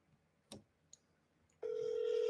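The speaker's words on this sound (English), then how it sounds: "Okay, that's our second ring." An outgoing phone call rings through a handset: a steady electronic ringback tone starts partway in and holds continuously to the end, after a quiet stretch with a couple of faint clicks.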